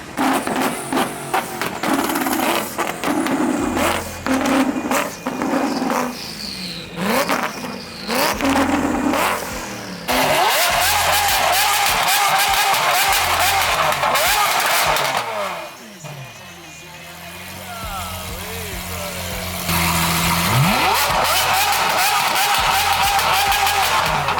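A twin-turbo Mustang revving hard at a night car meet, loud close bursts of engine roar and rising revs mixed with crowd noise, with a brief dip before the engine picks up again.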